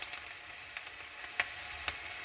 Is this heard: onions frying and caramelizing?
yes